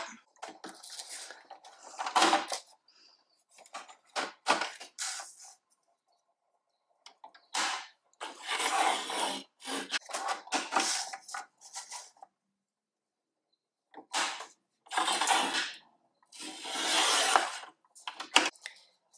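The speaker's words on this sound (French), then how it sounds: "Voilà, je vais découper ça." Scissors cutting a paper card for an Easter craft, several close bursts of crisp snipping and rustling separated by short silences.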